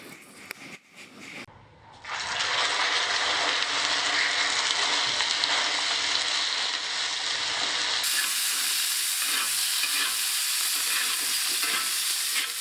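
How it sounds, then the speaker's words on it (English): Smoking-hot steaks hit the pan and erupt into a loud, dense, continuous sizzle and hiss that holds steady for several seconds, close up and alone, after a brief quieter lead-in. "I'm gonna put the steaks on now."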